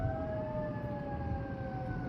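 Sirens wail steadily at a distance in a city at night, a sustained warbling tone over a dense rumble of background noise, with no voices.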